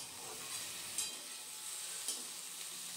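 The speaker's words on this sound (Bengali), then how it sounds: "এখন সব সবজিগুলোকে বেশ সুন্দর করে নেড়ে চেড়ে নিয়ে মিশিয়ে 5-6 মিনিটের জন্য কষিয়ে নেব।" Vegetables with cumin and coriander stir-fry in a pan, a steady moderate sizzle with a couple of brief scraping stirs, no talking.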